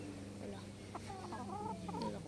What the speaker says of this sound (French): C'est une poule nègre soie.